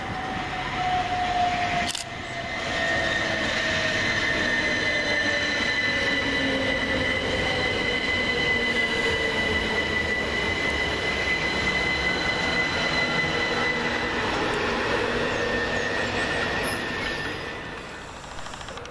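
A Southern electric passenger train, class 377, rolls into Goring-by-Sea station steadily, its motor whine and rising and falling tones sustained, with brief wheel squeal and a sharp clack near the start.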